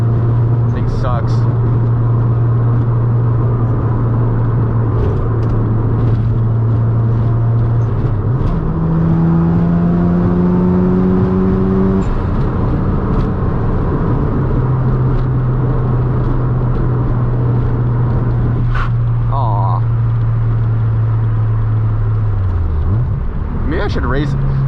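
A Mazda RX-7 FD on a street tune, running rough, drones loudly and steadily inside the car. Its pitch rises for a few seconds and then settles back, with a brief dip near the end.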